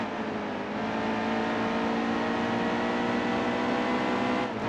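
A NASCAR Xfinity Series race car engine in the NASCAR Heat 2 game drones at sustained high revs under full throttle, loud and steady throughout, with a brief shift in pitch at the end.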